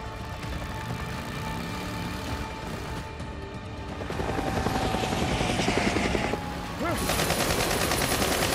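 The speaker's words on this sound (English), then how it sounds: "Why are they shooting?" Gunfire in the Days Gone video game, a steady helicopter-like roar with dense bursts of shots layered over it, loud and continuous throughout, growing heavier halfway through.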